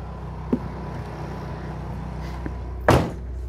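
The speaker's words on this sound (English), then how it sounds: "I'll go ahead and shut this door." The door of a 2023 Winnebago Navion 24J RV shuts with a single firm thud near the end, preceded by a couple of faint clicks over a low steady background hum.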